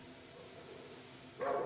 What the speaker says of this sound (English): Oh, that's just a regular dog,